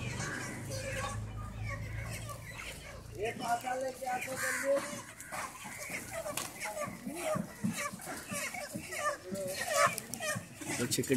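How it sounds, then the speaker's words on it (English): Crows caw repeatedly near a street market on Bandra Bazar Road in Mumbai, harsh calls rising over busy background chatter and voices, fairly close and recurring through the scene. "crows,"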